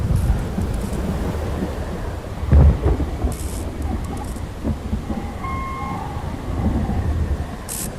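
A video game thunderstorm in Will Follow The Light: steady heavy rain with a deep rumble of thunder rolling through the middle, loud and enveloping, with no voices.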